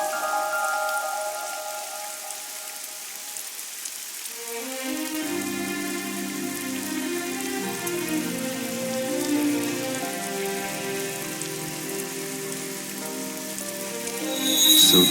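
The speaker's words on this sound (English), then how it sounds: "It's raining." Steady rain falling in the video game AI: The Somnium Files, a constant patter that continues throughout beneath a layered musical score that swells in after a few seconds.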